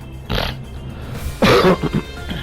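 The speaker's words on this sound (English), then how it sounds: "I need to clear my throat" Throat clearing from the video game Trails of Cold Steel IV: two short, rough bursts, the second louder and longer, close and clear with no other talk.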